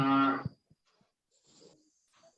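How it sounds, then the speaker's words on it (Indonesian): A cow lowing, one loud, drawn-out moo close by that cuts off after half a second, then near silence with faint scattered rustles and a thin high tone. "Ngono sapi."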